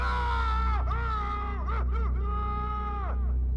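A man screams loudly as he comes down a school hallway, a close, piercing wail that rises and breaks into wavering cries over about three seconds with no other voices.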